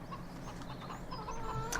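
Hens cluck in a Farming Simulator 17 farmyard, a steady run of short, close clucks and murmurs with a brief higher squawk near the end, no talking.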